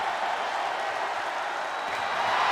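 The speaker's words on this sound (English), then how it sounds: "The sound of this crowd is deafening" Crowd roaring in the WWE 2K22 wrestling video game during a steel cage match, a dense, continuous, loud arena wash of cheering and applause with no break.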